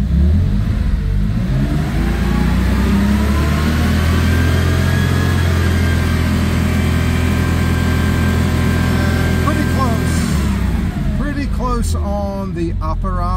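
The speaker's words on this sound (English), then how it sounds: "When I rev the engine, we see an instant move on the gauge" A car engine revs steadily up to about 5,000 RPM during an oil pressure gauge check, holding a loud, sustained high-rpm drone for roughly ten seconds before dropping off. Speech is audible near the end.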